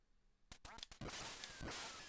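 Ducks quack repeatedly in the NES game Duck Hunt, loud and close, the bursts running together into a busy stretch of game noise with no talking.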